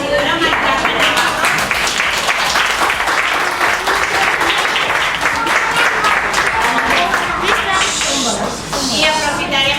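Loud, dense applause from a large audience at a school end-of-year festival, greeting a town councillor; sustained close hand-clapping that fills the whole stretch with a voice faintly underneath.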